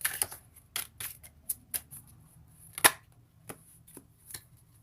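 Tarot cards being shuffled and tapped, a series of sharp papery clicks and flicks spaced irregularly, close and fairly crisp against a quiet background with no speech.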